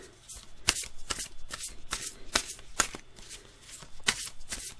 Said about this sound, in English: All right, we're good and shuffled